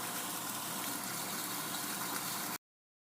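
A household water pump runs with a steady rushing, gurgling flow of water, loud and close, before cutting off abruptly near the end.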